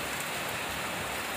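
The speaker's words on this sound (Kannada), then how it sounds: "ಬೆಳಗ್ಗೆಯಿಂದ ಹೀಗೆ ಮಳೆ ಹೊಡಿತಾ ಇದೆ ಇವತ್ತು" A short burst of heavy rain comes down as a steady, loud wash of hiss on a surface, uninterrupted and without speech.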